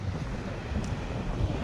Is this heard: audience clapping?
no